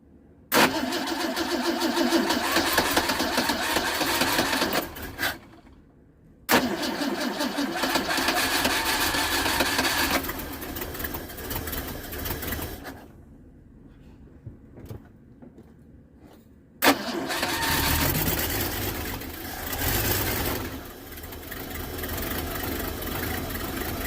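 Ford Mustang engine with a fuel leak being started: repeated loud cranking and sputtering attempts, broken by brief silences, close and steady, no talk.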